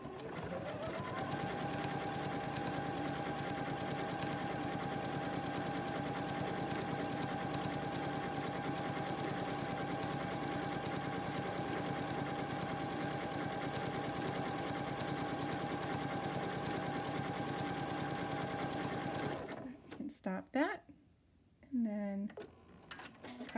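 A Continental M17 sewing machine stitches decorative stitches in a steady, rapid mechanical chatter for most of the clip, then stops abruptly as a person begins speaking.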